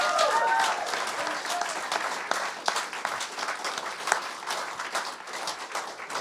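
Sustained audience applause at a community event on a Sacramento stop of a 2022 West Coast speaking tour, dense clapping filling the room steadily for about six seconds without talk.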